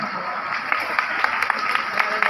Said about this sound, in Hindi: जोर से बजाओ ना ताली।